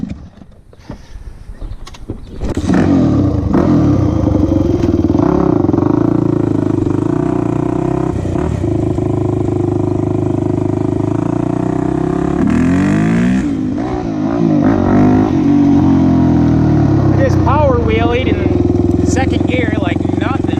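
Yamaha YZ400F motorcycle engine running loud and close while being ridden, revving and pulling steadily through the gears with rising and falling pitch, a rider's voice occasionally heard over it.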